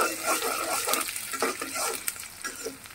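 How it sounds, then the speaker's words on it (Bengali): Garlic and onion sizzle and crackle in a hot pan while being stirred, with close, busy frying noise and scraping strokes throughout. "পেঁয়াজ রসুনটা একটু নাড়াচাড়া দিলাম"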